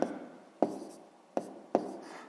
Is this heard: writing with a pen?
yes